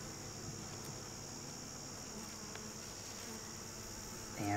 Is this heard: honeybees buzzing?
yes